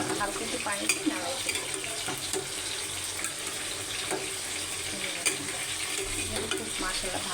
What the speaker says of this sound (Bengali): হালকা একটু পানি দিয়ে নাড়াই